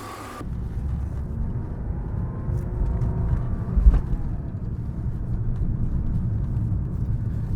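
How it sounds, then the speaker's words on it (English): A noisy AC compressor kicks on in a BMW, giving a steady low droning rumble with a faint wavering whine above it, heard close and continuous with no talk. "Sounds like we got some noise when we kick the AC compressor on."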